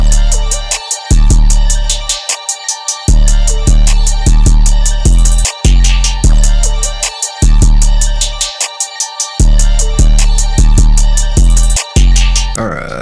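A trap beat with crisp hi-hats ticking steadily and breaking into fast rolls over booming 808 bass and snare hits.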